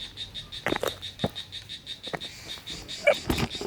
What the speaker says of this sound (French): Nous avons les cigales, voilà, qui nous accompagnent.